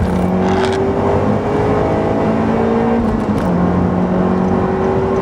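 A car fitted with an FKXRacing ram air intake accelerates hard, its engine roaring loudly and continuously as the pitch climbs through the gears over several seconds.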